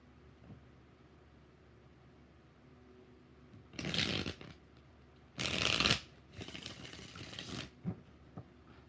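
A deck of tarot cards is riffle-shuffled in three quick bursts of close, crisp flutter, with quiet pauses between them.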